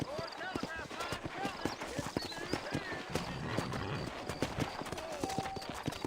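Horse hooves clip-clopping at a fast gallop in Red Dead Redemption on PC, a rapid rhythmic pounding with an occasional whinny, steady throughout with background game sounds.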